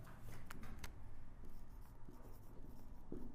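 Chalk or marker writes on a board during a maths lesson on fractions, steady scratchy strokes and taps in a near, continuous run, with no talking.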